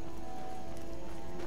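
Horse galloping off in the Skyrim video game, rapid steady hoofbeats under a sustained tonal music drone, moderately loud and continuous.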